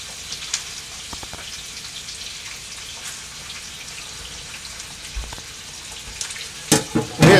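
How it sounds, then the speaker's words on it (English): Hands being washed under a running tap in a home kitchen, a steady faint stream of water with light splashes and a few louder clatters near the end, no talking. "I'm washing my hands"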